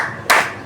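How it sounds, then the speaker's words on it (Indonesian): A single sharp hand clap in an ice-breaking clap game rings out close and loud in a quiet room. "Tepuk satu, tepuk dua, tepuk tiga,"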